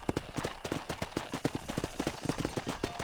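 Video game horse hooves clip-clop in a quick, uneven rhythm close by while herding cattle, a steady trot of sharp knocks that continues throughout.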